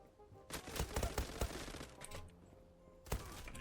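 Gunfire in the online shooter game Zula, a quick cluster of sharp shots followed by a single later shot, fairly faint overall with no talk over them.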